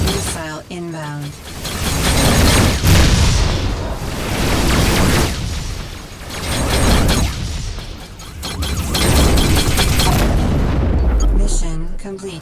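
Repeated heavy booms of missile explosions in the space combat game Rebel Galaxy Outlaw, loud and dense, rolling in waves across the stretch with a voice speaking briefly at the start and end.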